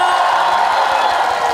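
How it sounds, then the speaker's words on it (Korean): Outdoor crowd at a trot music festival cheering and applauding, a loud continuous roar of voices and whoops heard briefly and from a distance. "박수 함성."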